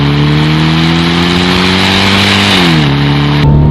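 A supercharged 4.2-litre V8 Jaguar XJR accelerates hard, its loud engine note climbing steadily through the revs before a gearchange drops the pitch, then it pulls on again with no talking over it.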